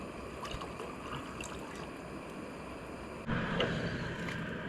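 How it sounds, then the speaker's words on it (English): Water boils on a camp stove beside a lake during a heatwave, giving a soft, steady bubbling hiss that grows slightly louder and fuller toward the end. "boiling some water right now."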